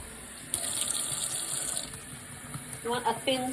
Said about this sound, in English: And I'm going to put approximately a cup of water.